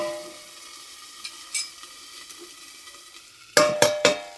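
Cauliflower frying in a pan gives a soft steady sizzle, then three loud metallic clanks of stirring near the end, with no talking.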